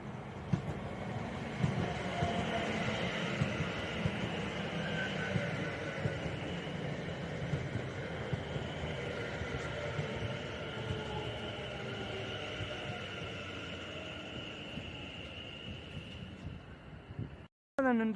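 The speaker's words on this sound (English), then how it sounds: "departing out 1 minute early for West Midlands Railway is the previously mentioned 730-015 and 730-009 with 2U40 from Redditch to Four Oaks" A pair of coupled West Midlands Railway Class 730 electric trains pulls out of Erdington station, a long steady rumble and hum with rising motor tones, moderately near and fading gradually.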